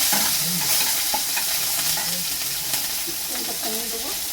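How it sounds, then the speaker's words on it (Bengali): Bitter gourd fries in oil in a pan after a five-spice tempering, with a close, bright continuous sizzle broken by repeated stirring and scraping. A voice is heard briefly near the end. "আমি এবারে উচ্ছেটাকে ভেজে দিচ্ছি"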